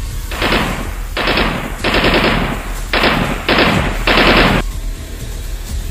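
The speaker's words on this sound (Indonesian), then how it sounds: "Jelas kedengaran bunyi tembakan machine gun musuh." Bursts of rapid machine gun fire, six loud sustained volleys separated by short pauses, close and harsh.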